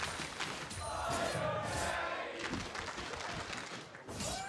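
Arena crowd at a League of Legends esports match cheering and roaring, a swelling wash of many voices that rises, holds and dips, heard at a distance and fairly faint.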